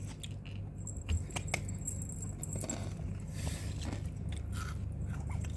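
Close crunchy biting and chewing on a sweet, milk-flavoured snack, a steady run of crisp crackles over a low constant hum, with no talking.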